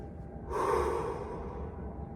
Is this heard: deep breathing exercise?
yes